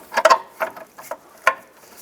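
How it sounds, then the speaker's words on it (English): A ratchet works on the upper control arm bolts of a 2005-10 Jeep Grand Cherokee, giving short bursts of close, sharp clicking in an uneven pattern with brief pauses between strokes. "pull the bolts out"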